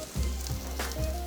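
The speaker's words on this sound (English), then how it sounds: "Now we're going to put this on the grill together with our pork." Pork leg steak and French cheese sizzle on a grill, a close, steady crackle with a couple of soft bumps, and nobody speaks.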